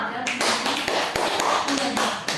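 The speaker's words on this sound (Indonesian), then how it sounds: "Beri aplaus untuk teman-teman semua." A classroom group claps for a group presentation, a short burst of scattered hand claps mixed with background voices in the room.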